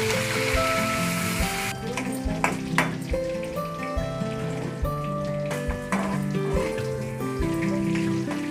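Paneer frying in oil in a kadai for home-style palak paneer, a steady close crackling sizzle that continues throughout, with no talking.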